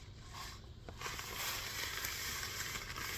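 Five pounds of gold paydirt poured into a large gold pan, giving a steady gritty rush and rattle of dirt and gravel that builds after a soft start and keeps going to the end.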